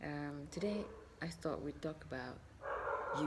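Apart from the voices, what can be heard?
dog barking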